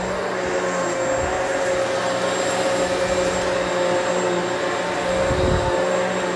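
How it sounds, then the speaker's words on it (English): A Hoover Elite Swivel XL Pet vacuum cleaner runs with a steady, loud motor drone and whine, holding constant throughout with a brief surge of heavier suction rumble near the end. "Pet hair is not a problem for this vacuum."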